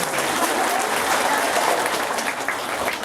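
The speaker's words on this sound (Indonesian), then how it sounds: "Tepuk tangan." A congregation at an Indonesian Islamic sermon bursts into dense, steady applause that fills the whole short stretch, close and loud with no voices over it.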